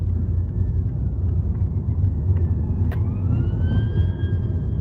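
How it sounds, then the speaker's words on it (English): A police car siren wails faintly over heavy, rumbling London street traffic, its tone sliding and rising as it passes in the distance. "Oh, there's a police car."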